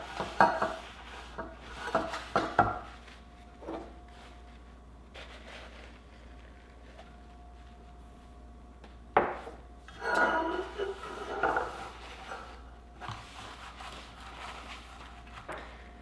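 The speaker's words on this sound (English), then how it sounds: "We're just gonna wipe down all the muffin tins we're gonna be using." Muffin tins are wiped down with pork lard, making intermittent metallic scraping and rubbing sounds in bursts, with quiet gaps between.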